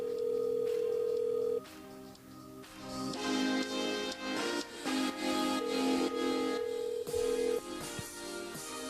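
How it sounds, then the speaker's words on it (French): On a radio phone-in show, a telephone call is placed: dialing tones followed by repeated ring tones over a low studio background, no talk. "Elle appelle Lucinda du côté de Saint-Zile"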